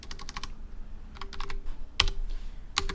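Quick bursts of clicking keys as code is typed on a computer keyboard, close and crisp, in uneven clusters with short gaps and a few sharper single strikes.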